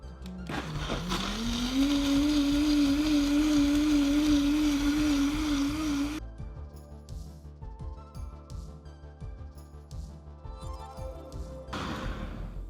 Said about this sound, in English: I blended it for about 45 seconds on a high-speed blender